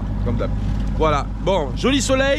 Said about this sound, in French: Ce qui est dommage, c'est le bruit du moteur, ça gâche tout.